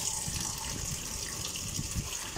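Water pours steadily into a cooking pot with chicken soup for creamy beef, a continuous close gushing splash that runs the whole time without a break, alone with no voices.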